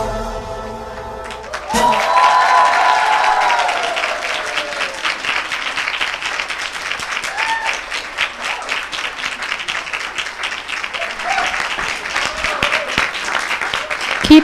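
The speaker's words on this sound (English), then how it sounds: "Keep on clapping." Audience clapping fills the hall after a children's Republic Day cultural performance at a Hindu temple in Parsippany, starting abruptly and holding as steady, dense applause, with voices mixed faintly underneath.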